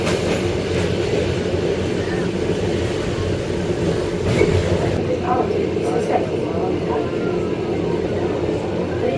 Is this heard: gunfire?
no